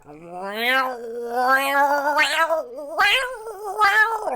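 A person imitates a house cat's drawn-out yowling meow, a series of rising and falling wails repeated about five times in close succession, loud and near, with no other voices.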